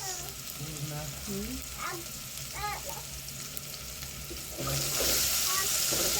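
Tomatoes and onions fry in a pan for an okra stew, giving a steady close sizzle that swells louder toward the end, with a voice talking over it at times.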